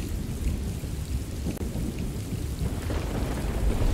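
Heavy storm with a dense, continuous roar of falling rain or hail and low rumbling thunder underneath, steady and enveloping for the whole stretch.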